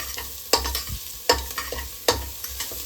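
Onions fry in a pan for fenugreek bath with a steady sizzle, broken by three sharp scraping stirs of a spatula at a regular rhythm, close and clear.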